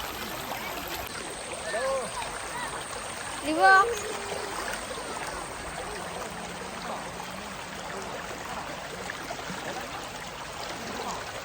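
Water flows in a stream at a hidden spot in Kozhikode, Kerala, a steady low rush with one brief splash. Several people talk over it throughout.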